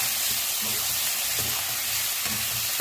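Prawns frying in a hot pan for a seafood dish with Thai sauce, giving a steady, close, broadband sizzle that carries on without a break and with no voices.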